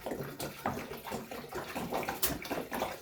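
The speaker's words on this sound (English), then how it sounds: "I purposely spill a little bit of water on top so I can wipe down the sheet." Water pouring from a reused milk container into a hydroponic tub, a soft splashing trickle with uneven gurgles, fairly quiet and close, with no voices.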